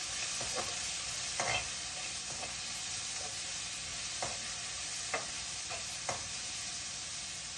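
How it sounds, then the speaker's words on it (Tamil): Salted onions sauté in a pan for potato masala curry, giving a quiet, steady sizzle with a few scattered stirring clicks near the pan. "நல்லா வெங்காயம் வதங்கட்டும்."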